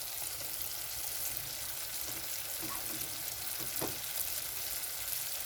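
A spice mix for fish roe, with mustard paste just added, fries in a pan as a soft, even sizzle. It is faint and steady, with a couple of small clicks from stirring.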